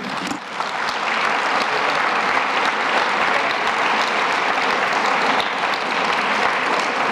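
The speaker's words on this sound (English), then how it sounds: "So can we have applause for both of our candidates this evening?" Full, sustained applause from an audience at a candidate forum, a thick wash of many hands clapping that swells quickly and holds at a steady, loud level for several seconds.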